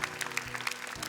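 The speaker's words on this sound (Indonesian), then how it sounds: "Tepuk tangan dong untuk ketiganya" Faint, steady applause rolls through the studio audience of a Hafiz Indonesia 2026 Quran recitation competition, clapping for three young contestants, with no voices over it.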